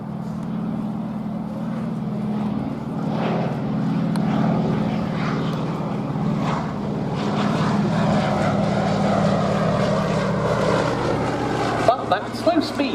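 A Fairey Swordfish biplane drones steadily through steep, tight turns during an air display at Duxford, its propeller engine a continuous loud hum that rises slightly in the middle.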